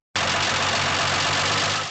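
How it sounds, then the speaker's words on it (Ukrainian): Car engine suffering fuel detonation, running steadily with a dense, continuous mechanical clatter and rattle layered over a low idle drone; loud and close throughout, starting abruptly and holding even to the end, with no voices. "А власник або власниця автомобіля, що зазнає детонації палива, чутиме характерний стукіт при роботі двигуна."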